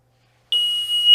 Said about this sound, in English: takes 10 seconds for the alarm to go off.